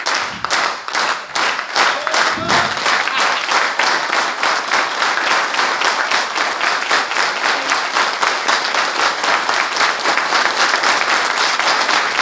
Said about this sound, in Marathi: यांच्यासाठी वाजवलेल्या टाळ्या कमी नाही झाल्या पाहिजे